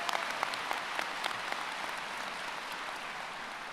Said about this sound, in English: Please help me in welcoming Abby with a round of applause.